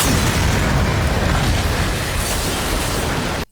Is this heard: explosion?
yes